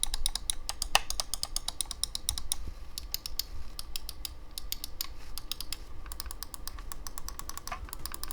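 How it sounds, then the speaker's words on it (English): Rapid irregular clicking of Logitech G502 mouse buttons, crisp and close, in quick bursts with brief pauses, over a quiet background. "Here's a quick test to show what the buttons sound like."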